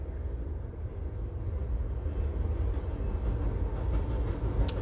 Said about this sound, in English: Sorry, there's a train going by right now.